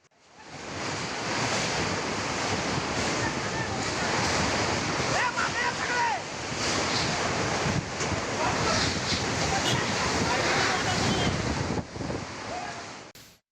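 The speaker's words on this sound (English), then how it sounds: "Extremely strong and gusty winds, fierce winds due to Cyclone Nisarga having this impact." Cyclone Nisarga's fierce, gusty winds roar continuously, buffeting the microphone with a dense, loud rush that swells and eases slightly in gusts, with a surf-like wash underneath.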